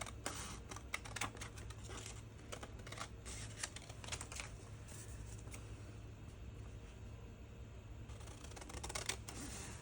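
Junk mail envelope paper being trimmed, producing a steady run of soft, close, crisp snips and rustles. No one speaks during it.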